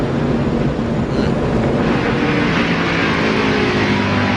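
NASCAR stock cars race past, a loud, constant low engine roar from a pack of cars that fills the whole stretch without a break.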